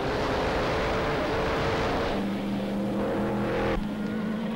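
A 1934 Auto Union Silver Arrow race car at the German Grand Prix at the Nürburgring, a loud continuous engine roar with a steady drone that shifts in pitch partway through, no talk over it.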